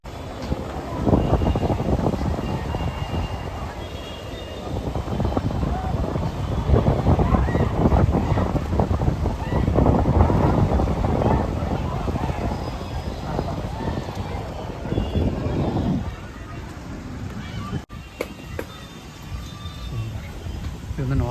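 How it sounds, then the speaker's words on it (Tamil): An ordinary boat ride on the water near Vijayawada, with a steady engine and splashing rush under strong wind buffeting the microphone. Someone speaks intermittently over it, and things quiet down near the end. "இது வந்து நார்மல் போட்டு"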